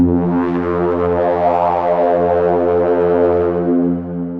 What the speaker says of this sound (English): We can add a little bit of reverb in the end, so we can have a little bit more of that tail.